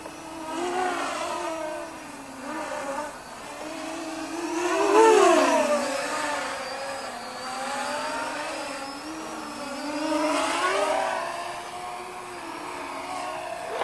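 A HiSky HMX280 RC drone flies outdoors near trees, giving a steady high-pitched whine with faint harmonic bands that rise and fall in pitch as it maneuvers. The sound swells louder twice as the drone passes closer.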